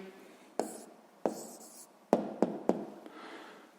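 An answer to a sixth-grade maths problem is written by hand on paper, with a few distinct pen taps and short scratchy strokes up close in a quiet room.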